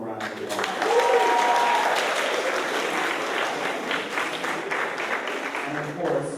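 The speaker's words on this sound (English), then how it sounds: "let's give him a round of applause" Sustained audience applause with scattered cheers fills the room at a cast introduction for a stage show, steady and full throughout.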